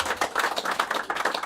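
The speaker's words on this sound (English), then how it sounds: "Can we give a big cheer to Ipswich Town women?" A crowd applauds the Ipswich Town women's football team, a brisk burst of many hands clapping close by with no voices.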